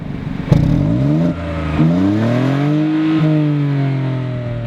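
A 2014 MINI Cooper with a three-cylinder engine revs up through the gears, its engine note rising in several clear sweeps with brief drops at each shift, loud and close with no talk.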